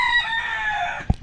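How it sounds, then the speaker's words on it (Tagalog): A rooster crows loudly and close by in a drawn-out, wavering call, with a couple of short chicken clucks at the end. "So ngayon madami tayong manok."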